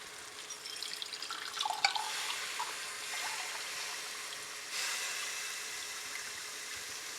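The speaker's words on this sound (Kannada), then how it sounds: "ಇದೇ ಸಮಯಕ್ಕೆ ಇವಾಗ ಇದಕ್ಕೆ ನೀರು ಹಾಕ್ಕೊಳ್ಳೋಣ" Water poured into a pot of rice sautéed in oil and ghee for veg pulao, a steady hissing splash that swells early, eases, then returns with a second strong pour near the end, no voices.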